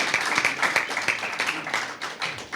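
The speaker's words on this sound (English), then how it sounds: "Please give them a round of applause." An audience applauds debate teams after a round, a modest burst of scattered clapping with individual claps distinct, fading toward the end.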